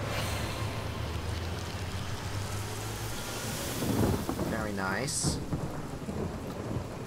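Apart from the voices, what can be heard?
rain and thunder spell in video game Divinity: Original Sin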